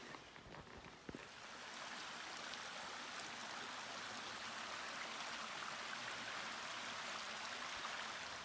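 A steady, broad rush of a flowing mountain creek along the Pacific Crest Trail near Warner Springs, California, constant and fairly close, with a brief tap near the start and no voices.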